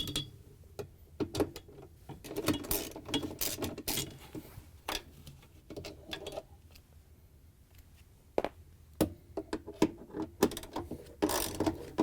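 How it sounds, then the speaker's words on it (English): Clicking 10mm socket ratchet backing out the two screws that hold the drain motor in a Samsung washer, with irregular bursts of sharp mechanical ticks and pauses, close and moderately loud, no talking. "we can use a 10mm socket to remove the two screws that hold the drain motor in"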